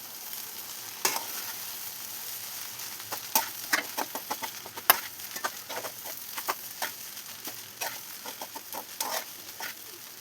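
Egg rice is stirred in a frying pan, with a soft background sizzle under a string of irregular spatula scrapes and taps, moderately close and fairly quiet.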